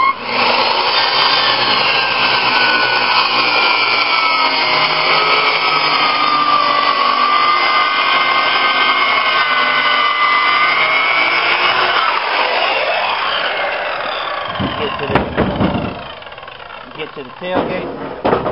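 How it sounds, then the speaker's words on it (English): Skill saw (circular saw) cutting wood for tomato stakes, a loud continuous whining buzz through the blade that holds steady for about twelve seconds, then winds down into a few scraping, clattering knocks near the end. "Take the skill saw."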